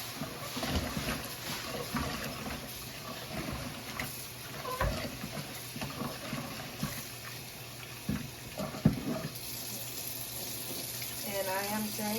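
Water pours off rinsed rice being drained in a kitchen, a continuous close splashing and trickling rush that runs the whole time with small clattering knocks.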